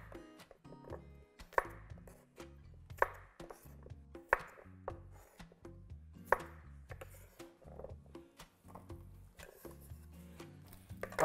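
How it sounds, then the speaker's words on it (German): Repeated knife chops through potatoes on a cutting board in an irregular rhythm, each stroke a sharp close thud, with no talking. "Weiter schneiden wir die Kartoffeln."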